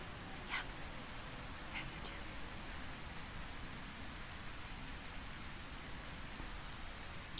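Steady rain falls in the video game A Quiet Place: The Road Ahead, a constant even hiss with a few faint brief ticks and no talk.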